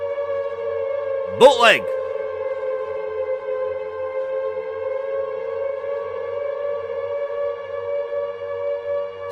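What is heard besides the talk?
siren sound effect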